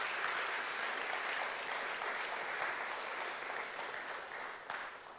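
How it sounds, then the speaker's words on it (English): Sustained applause from a conference audience honoring the speakers at PromCon EU 2023, a steady dense patter of many hands clapping throughout, fairly even in loudness and fading slightly toward the end. "maybe just another round of applause for all the speakers and for all the work they've put in"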